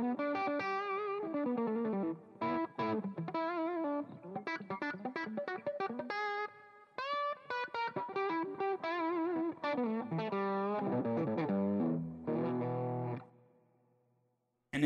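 Electric guitar played through an amp with an Ultimate Attenuator at about loud talking level: a distorted, effects-laden stream of chords and melodic phrases with brief pauses, fading out near the end.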